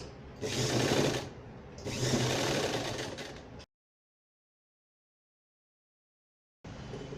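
Sewing machine top stitching the fabric of a party gown, running steadily in two long bursts with a brief pause between, then stopping dead into silence before starting up again.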